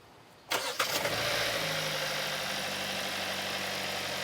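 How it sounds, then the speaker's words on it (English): A Hyundai Tucson with a fault that keeps it from accelerating past 1000 RPM cranks briefly, catches, and settles into a steady close idle hum, alone without talk. "go ahead and start the engine."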